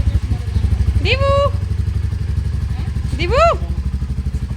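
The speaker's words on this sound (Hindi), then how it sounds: "आज दिव्यांशी हमको लेके जा रही है बाइक पे।" Motorcycle engine running steadily at close range, a low pulsing throb with children and an adult talking over it.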